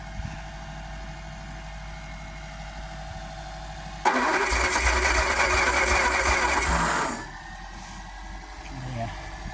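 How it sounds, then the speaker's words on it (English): The starter motor of a Daimler 250 V8 cranks in a loud, rapid whirring burst lasting about three seconds, then cuts off, with quieter background sounds and some talk around it. "That starter motor sounds a little bit sad."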